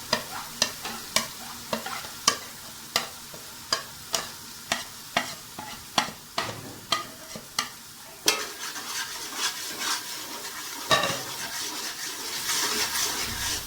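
Spices for chicken biryani are roasted and stirred in a pan with rhythmic spatula scrapes and taps, over a low sizzle. The strokes are regular at first, then looser, and the frying swells louder toward the end.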